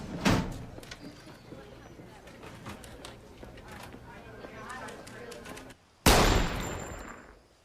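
Gunshots ring out in a police drama, a rapid series of sharp cracks followed by a louder blast with a fading echo.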